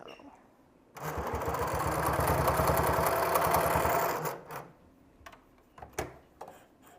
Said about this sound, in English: Line up these pieces and sew.